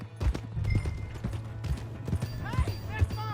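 Horse hooves clip-clop in Red Dead Redemption 2 gameplay, a steady run of close, hollow knocks mixed with creaking tack and game sounds while characters talk over it.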